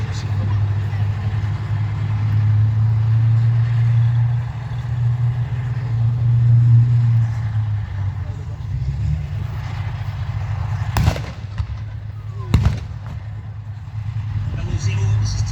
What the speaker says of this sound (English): They drive towards the enemy, causing as much damage and destruction as possible, concentrating their fire on enemy armoured vehicles and defensive positions.